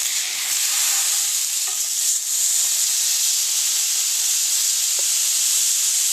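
Sirloin steak sizzles steadily in a pan on a Fry 18 right after being flipped, a loud, even frying hiss that fills the whole stretch with a few faint ticks and no talk.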